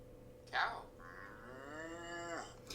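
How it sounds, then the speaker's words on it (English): A cow moos once in a long drawn-out low call that rises and then falls away, played back as a recording from a phone speaker and picked up by a nearby microphone, with no talking over it. "Cow."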